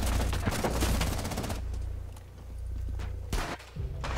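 Rapid bursts of gunfire from the tactical shooter game Rainbow Six Siege, a dense volley in the opening second and a half, then quieter pauses broken by a few sharp shots near the end.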